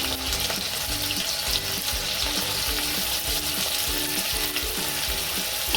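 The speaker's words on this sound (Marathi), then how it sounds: "कांदा टाकून घेऊया" Onion fries in hot oil in a kadhai on a gas stove with a loud, continuous close-up sizzle and regular stirring clatter throughout.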